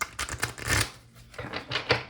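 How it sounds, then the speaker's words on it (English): Tarot cards are shuffled by hand in short papery bursts, two clusters of riffling and flicking separated by a brief pause, close and fairly loud. "Let's give it a little shuffle."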